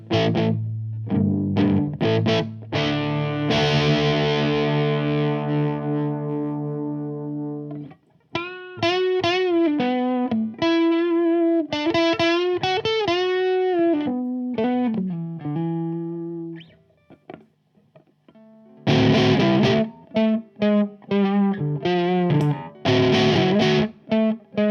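A Squier J. Mascis Jazzmaster electric guitar played through a fuzz-like distortion on an ultra gain channel, with sustained chords, bursts of picked notes and brief pauses, loud and close.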